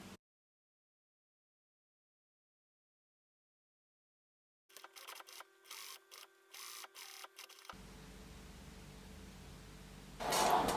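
Home sewing machine stitching fabric for a handmade gift, a run of short bursts of rapid mechanical whirring and ticking after a long silence, then a steady hum and a louder noisy rise at the end.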